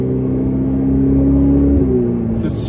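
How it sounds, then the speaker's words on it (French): A Ferrari 488 Pista with a titanium sport exhaust holds a loud, steady engine drone, its pitch shifting slightly near the end as it settles. No voices are heard. "le bruit de la Pista est plus agressif que sur la 488 GTB"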